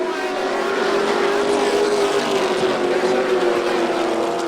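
Race trucks in the Florida Pro Truck Challenge Series on the dirt track at Volusia Speedway Park make a steady, loud engine roar that holds at a constant pitch throughout.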